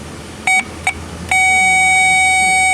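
Electrical test light probing a good ground wire on a Suzuki Vitara: two short beeps, then a third that settles into a steady, loud, high-pitched tone held to the end.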